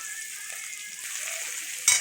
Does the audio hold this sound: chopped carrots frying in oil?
yes